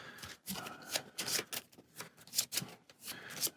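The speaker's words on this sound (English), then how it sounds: "doing some shuffling here" A deck of cards for the Gloomhaven board game is riffle-shuffled close up, giving several bursts of quick papery fluttering separated by brief pauses.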